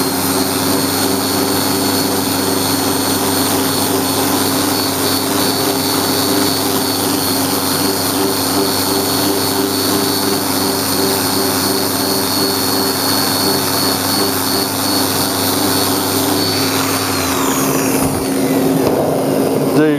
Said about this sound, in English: I'm going to be doing a lot of sanding with this thing